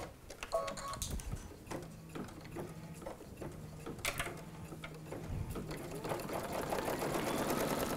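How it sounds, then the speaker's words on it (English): An embroidery machine stitches a tacking run on a hooped dangler design with a fast mechanical chatter and ratcheting clicks, close up and steady, growing busier toward the end. "we're going to put it back into the machine and run the next tacking stitch"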